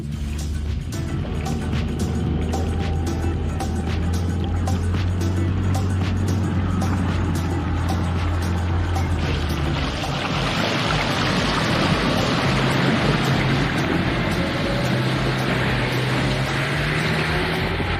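A car fords a deep river in the Russian tundra near Teriberka, its engine droning under loud rushing and splashing water that swells into a broader surge midway, with occasional voices.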